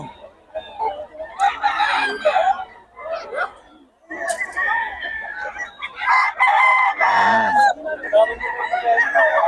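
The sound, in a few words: rooster crowing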